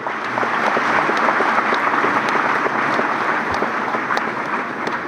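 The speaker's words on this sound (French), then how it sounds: "sous vos applaudissements, auguste assemblée, je vous prie." An assembled audience at a spiritual gathering gives steady, dense applause that holds at an even level throughout, with no voices rising above it.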